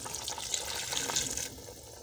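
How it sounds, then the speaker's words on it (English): Water pours steadily into a cooking pot holding potatoes and bananas, a soft continuous splashing rush that stops abruptly near the end. "Now I want to add water, then cover, leave them for a while so they can cook."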